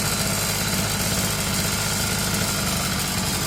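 A Sadko GTR 2200 petrol brushcutter with a newly replaced carburetor and freshly adjusted revs runs steadily at a constant speed, a loud continuous engine drone with a buzzing vibration and no pauses throughout.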